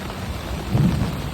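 Steady rain falls in a dense, hissing wash, with a low rumble swelling briefly partway through; no voices.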